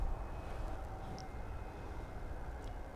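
An airplane approaching to land at DFW Airport on a cloudless day, heard as a faint, distant, steady low rumble with no voices.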